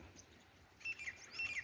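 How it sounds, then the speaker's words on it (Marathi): Faint morning bird chirps break out after a quiet start over a farm field during onion planting, a few thin, high tweets against soft background hush. "सकाळचे आता हे बघा पक्ष्यांचा आवाज येतो आहे"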